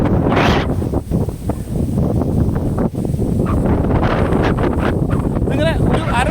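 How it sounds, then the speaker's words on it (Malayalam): Strong wind buffeting a microphone at Kattadi rock, a steady loud roar with gusty swells throughout; a voice can be heard faintly beneath it. "ഇങ്ങനെ ഒരു അര മിനിറ്റ് ഇവിടെ ഇങ്ങനെ കാറ്റ് വീശിക്കൊണ്ട് കിട്ടും"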